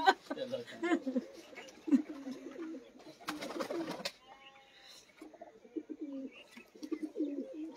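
Pigeons cooing at close range, soft throaty rolling coos repeating in short phrases, with a brief burst of broadband rustle like wing flaps in the middle and quiet background voices.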